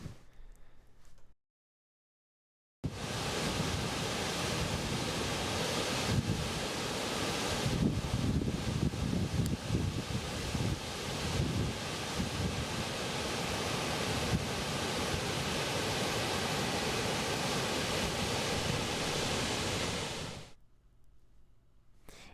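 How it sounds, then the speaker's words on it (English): Rushing waterfall along the Pacific Crest Trail near Reds Meadow, a continuous loud broadband roar that starts abruptly after a brief silence and holds steady before cutting off. "here's another video of a waterfall"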